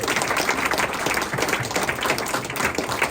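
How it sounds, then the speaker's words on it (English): An audience at a TIFF 2024 panel on filmmakers and generative AI applauds with steady, dense clapping that stays loud throughout. "Let's give a round of applause for our amazing panelists."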